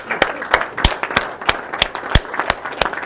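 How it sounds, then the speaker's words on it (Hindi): Audience clapping at a business networking meeting, a slow, loud run of about ten distinct hand claps in a loose rhythm, close and distinct over faint room noise. "शैलेंद्र जी के लिए हमने तालियां नहीं बजाई भाई, ये कैसे हो गया?"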